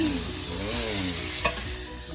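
Golden pompano fries greaselessly in a Saladmaster 12-inch skillet, giving a steady, close sizzle with faint stirring and a brief scrape partway through.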